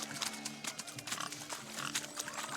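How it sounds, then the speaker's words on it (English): Pigs oinking and grunting in The Witcher 3 game, a busy cluster of repeated snorts and squeals close by, layered over a bustling outdoor wedding feast background. "Blustering about after pigs, are you?"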